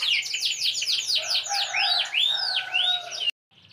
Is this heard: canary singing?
yes